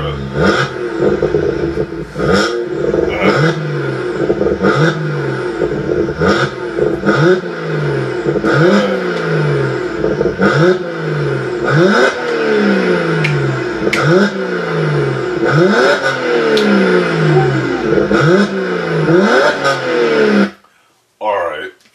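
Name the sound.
BMW 1M N54 engine revving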